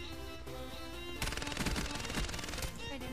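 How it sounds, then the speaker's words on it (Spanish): A Vesper submachine gun in Call of Duty: Black Ops 3 is fired from the hip in a dense, rapid burst of gunshots that starts partway through and continues to the end. "Disparar desde la cadera es la clave, señores."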